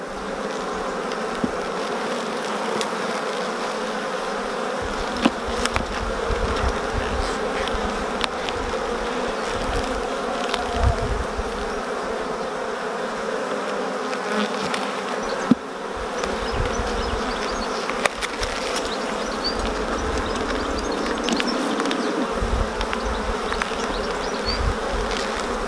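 Honey bees swarm around an opened beehive during a queen introduction. They make a dense, continuous buzz with individual bees droning close by now and then, and small knocks and clicks of hive handling occur here and there.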